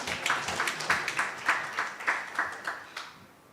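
A small audience at a science forum claps faintly for several seconds, individual claps audible in an uneven, fairly sparse rhythm.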